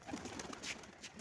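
Pigeons coo softly in a short, very faint burst of low, murmuring bird calls with background noise and no talk.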